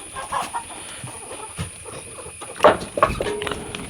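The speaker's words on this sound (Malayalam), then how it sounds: "വളരെ കുറച്ച് കോഴി മാത്രമേ ഉള്ളൂ കേട്ടോ" A few brief clucks from chickens near the end, faint and scattered among rustling and background hum, no talking.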